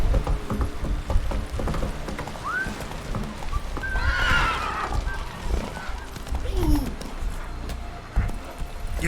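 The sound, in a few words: horse neighing and galloping in video game Witcher 3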